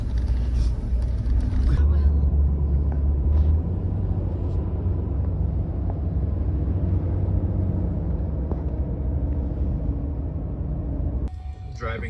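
A cheap used Chevrolet Suburban drives along a neighborhood road, its steady low engine and road rumble continuous throughout, with people talking over it.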